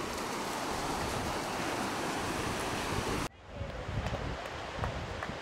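Waves break on a Coromandel beach, a loud, steady surf rush that cuts off abruptly partway through, then gives way to softer, gustier wash and wind buffeting the microphone.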